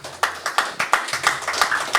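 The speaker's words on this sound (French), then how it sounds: "Donc je vous demande d'applaudir très chaleureusement Pascal Blaise" Audience clapping warmly at a hip-hop culture weekend event, a dense run of overlapping hand claps with sharp peaks throughout, fairly close and steady for the whole stretch.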